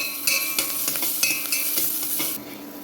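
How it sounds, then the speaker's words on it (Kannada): Green chillies and curry leaves fry in hot oil for a green gram rasam, a loud steady sizzle close up with quick scraping stirs of a spatula, continuous across the whole moment. "ಹಸಿಮೆಣಸಿನ್ಕಾಯಿ ಮತ್ತು ಕರಿಬೇವಿನ ಸೊಪ್ಪನ್ನ ಹಾಕ್ತಾ ಇದ್ದೀನಿ. ಅದೆರಡೂ ಕೂಡ ಚೆನ್ನಾಗಿ ಫ್ರೈ ಆಗಬೇಕು."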